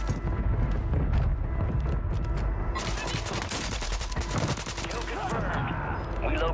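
OTS 9 submachine gun fire in Warzone 3, loud sustained bursts of rapid shots over dense game ambience and explosions, with chaotic layered gunfire throughout.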